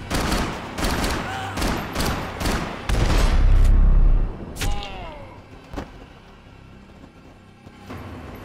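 Gunfire in the Max Payne 3 video game, a burst of sharp repeated shots in quick succession, then a few scattered single cracks and thumps fading to quiet.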